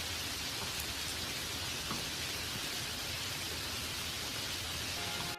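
Steady, dense rainfall in a Hindi cartoon story, a continuous loud hiss of drops pouring down evenly throughout with no voices or pauses.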